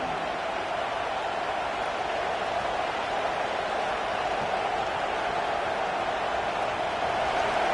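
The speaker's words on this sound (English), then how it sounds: "Here comes this home crowd as the defense tries to get off the field on third down" Steady roar of a home crowd in the Madden football video game during a third-down defensive stand, a constant dense wash of noise without distinct peaks.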